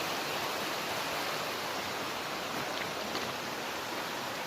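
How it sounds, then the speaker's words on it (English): The West Fork of the Rapid River rushes in a steady, dense wash of flowing water, constant and fairly loud with no voices over it. "The West Fork of the Rapid River."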